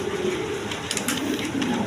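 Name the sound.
red Indian Bombai pigeons cooing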